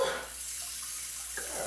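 Water spraying for a bum wash, a steady close hiss of spray running without a break, with no talk.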